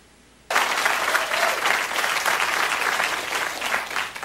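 A studio audience bursts into loud, sustained cheering and applause after a brief quiet moment, the roar holding steady for several seconds without letting up.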